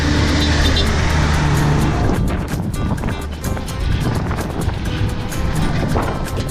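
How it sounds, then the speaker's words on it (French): Large sugar cane trucks, extra-long heavy haulers on a road in Colombia, rumble past loudly and close, a continuous engine roar with rising and falling passes and road noise throughout. "Ces gros camions de canne à sucre,"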